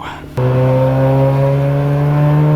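A Mazda RX-8 starts driving off: after a short quiet moment the engine note jumps in, loud and close, with a sustained, gradually rising drone that holds steady to the end, with no talk.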